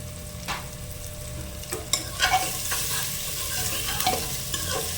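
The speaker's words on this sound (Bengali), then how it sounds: "এবার আমরা বেশ কিছুক্ষণ নেড়ে চেড়ে পেঁয়াজটা হালকা নরম করে ভেজে নেব" Sliced onion with a pinch of sugar and salt frying in a pan for chicken curry, a steady close sizzle broken by repeated stirring scrapes and a few sharper clinks partway through.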